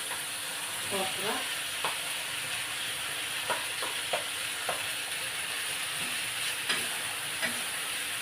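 Okra frying in a pan with salt and pepper, a continuous close sizzle and hiss broken by scattered clinks and scrapes of stirring, with no talking.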